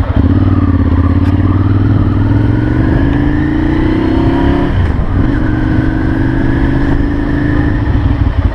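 A Ducati Monster 796 motorcycle rides through Paris traffic, its engine droning steadily and loudly up close, with rising pitch as it accelerates and a brief dip midway before pulling again, no voices over it.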